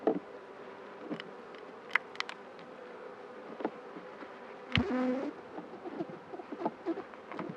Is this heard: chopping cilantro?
no